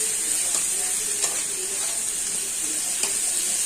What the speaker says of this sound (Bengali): পেঁয়াজগুলো ভাজা ভাজা হলে সবজিগুলো দিই ভাজা ভাজা হয়ে যাবে